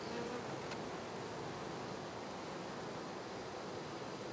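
Honey bees crowd a hive frame, a steady, dense insect hum like many bees buzzing close by, continuous and fairly quiet with no voices.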